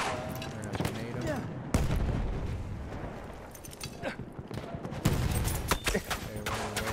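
Battlefield 1 combat: a grenade blasts heavily while gunfire, including Model 10 Slug shotgun shots, cracks in scattered bursts amid a loud, continuous battle din.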